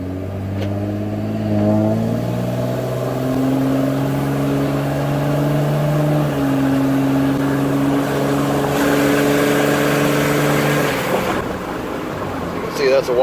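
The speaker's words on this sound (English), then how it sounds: "See, that's a wide open throttle stab right there." A 2006 Ram 2500 truck with a low-power fault: its engine drones steadily with rising harmonic tones as the throttle is opened wide, loud and sustained, with talking over it.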